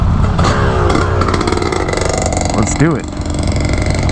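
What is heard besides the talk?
Ducati Scrambler motorcycle engine revving on a track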